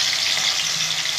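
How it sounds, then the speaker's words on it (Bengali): Katla fish fry in hot oil with a dense, even, loud hiss that holds steady throughout, close up and without speech. "ভালো করে তেলটা গরম করে নিয়ে তারপরে মাছগুলো আমি ভেজে নেব"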